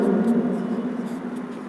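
Chalk or marker scratching across a board as the cattle breed name Karan Fries is written out, a close, steady scraping stroke that lasts under two seconds.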